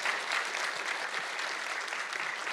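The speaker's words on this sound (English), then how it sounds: "while we give them another round of applause" Dense, steady applause from an audience at a predoctoral fellowship ceremony fills the room with a continuous crowd clapping, held at an even level throughout.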